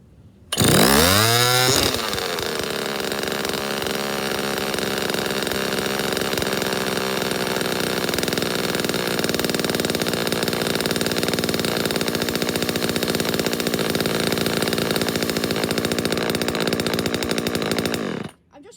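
A 1979 Homelite Super EZ Automatic two-stroke chainsaw fires up with a sharp rev, then holds a loud, steady high idle that drones on without pause.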